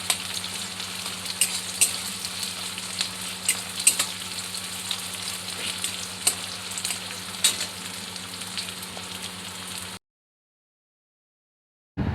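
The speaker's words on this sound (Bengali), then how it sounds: "জিরে তেজপাতা আর পেঁয়াজটা দিয়ে হালকা একটু ভেজে নেবো" Onion, cumin and bay leaf frying lightly in oil for a Bengali mutton dish, giving a continuous moderate sizzle with occasional crackling pops, cutting off abruptly into silence near the end; no talking.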